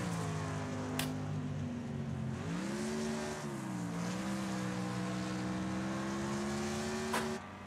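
Race car engines roar in the racing video game Wreckfest, a sustained droning whine that dips and climbs in pitch as the cars take the corners, with a couple of sharp clicks over the top.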